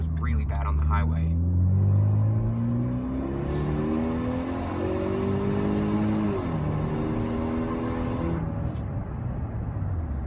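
A 2013 Ford Fusion Titanium accelerates hard to 60, its engine droning and rising through the gears with audible shifts, a steady loud rumble of road and wind noise throughout.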